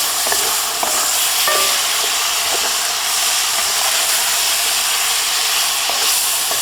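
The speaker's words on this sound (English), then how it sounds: "just a touch of water to create some steam" A splash of water hits a hot wok of sweet chilli noodles on a Lidl Mini Landmann kamado barbecue, giving a loud, steady steam hiss and sizzle with a few faint clicks and no talking.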